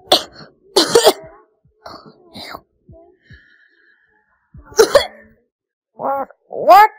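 A run of short, sharp coughs in a text-to-speech storytime comedy. Some are dry bursts and some are voiced, spaced irregularly across the clip with near silence between them.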